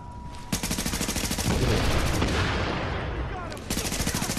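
Rapid automatic gunfire with explosive rounds in the video game The Division, a dense, loud stream of shots and bursting impacts against walls, continuous through the span with brief breaks in the rhythm.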